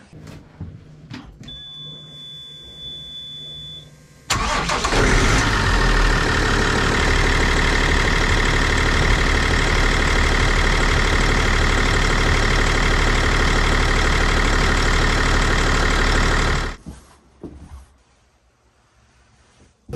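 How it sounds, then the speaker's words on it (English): A boat engine runs at low revs in the engine room of a Rhea 900 boat, a steady droning hum that starts after a few seconds, holds evenly, then cuts off near the end. "It's uh, quiet and the uh, motor actually revs low. This is the motor room."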